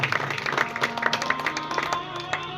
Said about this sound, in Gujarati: એક વખત જબરદસ્ત તાળીઓ આ યુવક મિત્ર મંડળ માટે.